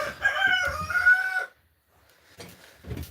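A rooster crows once, a loud, drawn-out call lasting about a second and a half, followed by silence and then softer clucking.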